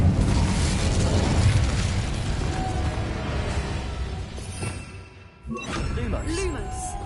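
Fiery bursts and booming blasts from the Incendio fire spell cast in the Hogwarts Legacy video game, loud at first and then fading, with a short pause before a fresh crackle of effects. A person speaks over the magic.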